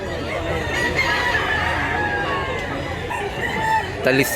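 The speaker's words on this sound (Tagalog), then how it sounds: "Dami ng manok dito" Chickens and roosters crowing and clucking at a busy early-morning poultry market in Mantalungon, Cebu, with overlapping calls across a crowded, noisy background.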